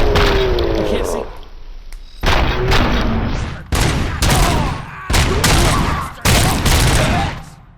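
Heavy gunfire in the RoboCop: Rogue City video game, loud and close, coming in repeated booming bursts about a second apart, each dropping into brief lulls.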